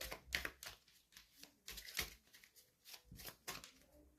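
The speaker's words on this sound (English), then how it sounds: "Thank you for bearing with the shuffling." Playing cards being shuffled by hand, a run of soft riffling and rustling bursts with short gaps, close and fairly quiet, no talking.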